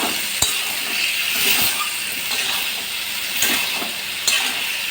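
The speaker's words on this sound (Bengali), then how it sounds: "আর কষাতে কষাতে আমি দিয়ে দিচ্ছি টমেটোগুলো" Tomatoes and spices sauté in a pan with a continuous close sizzle and hiss, broken by occasional clinks and scrapes of a stirring utensil.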